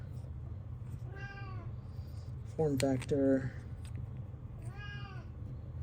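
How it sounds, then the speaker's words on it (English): A pet cat meowing near the microphone, three drawn-out meows with one louder double call in the middle, while someone briefly speaks and low background hum continues. "My cat. I have fed these cats, and they're still bugging me."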